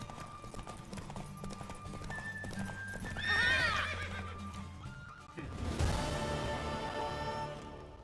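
Horse hooves clip-clop steadily in a Witcher 3 game scene, and a loud whinny rises in the middle before the galloping picks up again, all under faint background sound.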